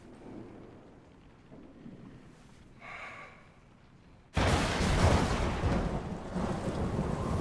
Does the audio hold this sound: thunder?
yes